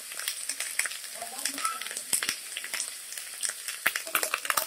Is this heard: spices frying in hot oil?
yes